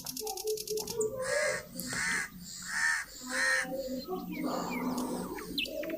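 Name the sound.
birds calling from trees in the distance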